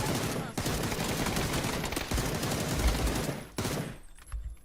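Dense bursts of automatic gunfire rattle almost nonstop in a PUBG match, loud and close, breaking off briefly before a final few shots near the end, with no voices.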